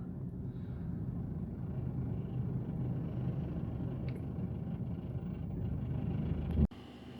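Road traffic rumbles steadily outside a school, a continuous low drone of passing cars and engines heard without talking, ending with a brief loud knock.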